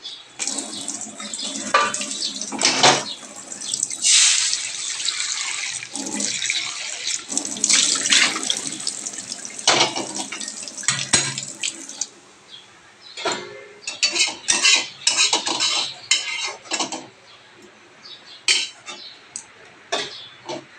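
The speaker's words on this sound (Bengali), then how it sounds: "তার আগে কড়াইটা একটু ধুয়ে নেবো জল দিয়ে" Running water splashes and sloshes as a wok is rinsed, with bursts of flow, scraping and clinks, alternating between steady streams and short splashes.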